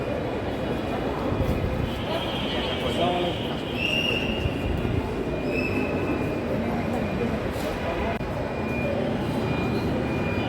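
Metro train on the Uttara to Agargaon line in Dhaka, a continuous rumbling ride with high whining tones rising and falling, steady and fairly loud throughout.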